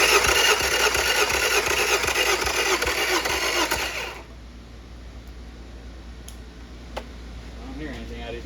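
A Yamaha 50HP outboard engine runs loudly with a rough, ticking mechanical roar for about four seconds, then cuts off abruptly into quiet with a few faint clicks and clanks afterward.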